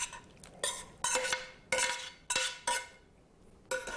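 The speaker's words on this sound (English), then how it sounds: "I'm just going to spoon it over and then we'll toss." Pasta sauce of sweet red pepper is spooned over al dente bucatini and tossed, making a string of quick clinks and scrapes of a utensil against a dish, about seven separate bursts at close range with no talk.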